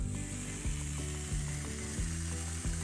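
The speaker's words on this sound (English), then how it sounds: "we're gonna set this on the griddle and just listen to it sear." Pepper turkey sizzles steadily on a hot Blackstone griddle, a close, constant frying hiss broken by regular clicking pops about every two-thirds of a second.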